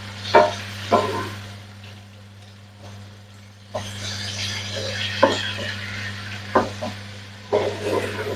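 Prawn fried rice being stirred in a pan with pineapple pieces, giving soft scraping and clattering strokes of a spoon against the pan, a few sharper clinks spaced over several seconds over a steady low hum.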